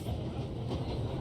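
A train rolls along its rails in the video game 11-11: Memories Retold, a steady, dense low rumble with no breaks, heard up close as though from aboard a moving wagon.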